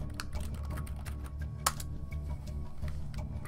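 Rapid clattering keystrokes on a computer keyboard, steady and close, with one sharper louder key hit midway and a low hum underneath.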